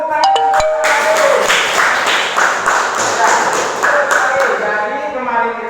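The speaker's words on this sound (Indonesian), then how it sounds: "Ya, beri tepuk tangan." A classroom of students claps hands in rhythmic, distinct bursts of slaps, with a few bright tapping or chiming sounds at the start and voices mixed in.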